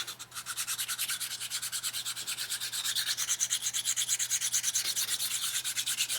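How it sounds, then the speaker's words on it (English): A part from a 1946 Harley-Davidson knucklehead stroker engine rebuild is sanded flat by hand, rapid rhythmic back-and-forth rasping strokes, close and steady, with no voices. "now we can take it and do our sanding on this"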